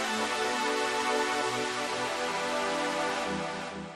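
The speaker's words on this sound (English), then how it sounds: "I like the string here. As you can hear, the string sounds like this." A sustained synth string pad in LMMS holds a smooth, steady chord, fading slightly at the end, with no voice.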